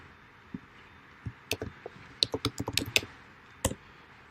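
Scattered keystrokes on a computer keyboard while a track name is entered in Ableton Live: a few isolated taps, then a quick run of close, crisp clicks, and one last sharp key press near the end.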